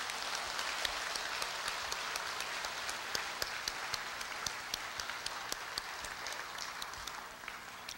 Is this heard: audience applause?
yes